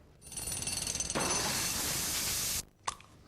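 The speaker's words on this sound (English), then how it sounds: "I've just bought a pneumatic drill." Pneumatic drill in a TV advert, a rapid hammering clatter that turns into a continuous loud grinding roar, then cuts off abruptly with a short clank afterward.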